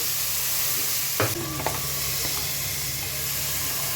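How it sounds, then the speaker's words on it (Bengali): Chicken curry with ginger-garlic paste sizzles in a frying pan, a steady close hiss broken by a couple of brief spoon knocks and scrapes as it is stirred. "ভালো করে নড়িয়ে দিচ্ছি।"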